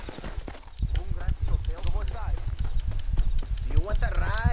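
Horse hooves clip-clopping in a Mexican desert western video game, a steady rhythmic plodding mixed under overlapping voices and bursts of speech.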